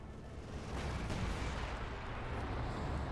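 Heavy gunfire and shell bursts from a Company of Heroes 2 tank battle between Wehrmacht and Soviet forces, an ISU and T-70 in the fight: a dense, continuous rumble of blasts with no clear gaps.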